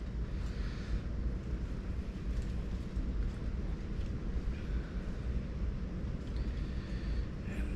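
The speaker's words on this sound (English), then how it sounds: "we're getting all the little bands of rain on the outside." Steady heavy hurricane rain bands and gusting wind outside, a continuous dense rumbling wash with no breaks, heard from indoors.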